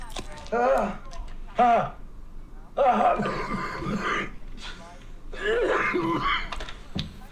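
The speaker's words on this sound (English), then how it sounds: "you're gonna be coughing for a while" Several rough coughs and throat-clearing bursts, loud and close, coming in uneven clusters with short pauses between them.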